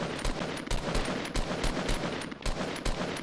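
Video game shootout gunfire: repeated sharp shots in irregular bursts, steady and fairly quiet throughout, with no talk heard.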